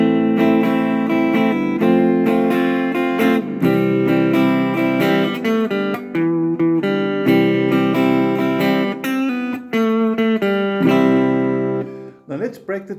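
Guitar chords from the introduction of a song ring out close and clear, strummed in a steady rhythm as the harmony shifts from one chord to the next, with no voices.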